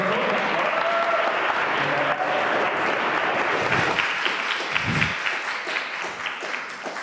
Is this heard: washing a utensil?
no